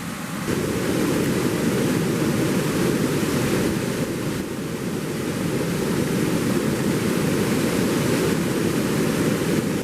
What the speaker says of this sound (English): This right here is the side of the waterfall.